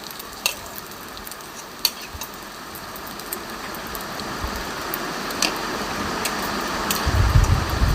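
Jute leaf fritters sizzle and fry in oil in a kadai, a steady crackling hiss with occasional sharp pops and stirring scrapes, fairly close and without talk.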